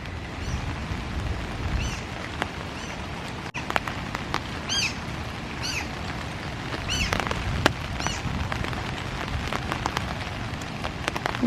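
Rain falling at an outdoor zoo, a dense steady patter on surfaces with sharper drips and taps scattered through, plus a few faint distant bird-like chirps, no talk.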